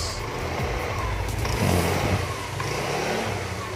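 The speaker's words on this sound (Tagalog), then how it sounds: "mas lumakas yung hatak ng makina niya" Yamaha Mio Soul scooter engine revving on a workshop test after a drive belt and roller replacement, a steady mid-pitched drone that swells briefly mid-clip, with a short spoken word near the start.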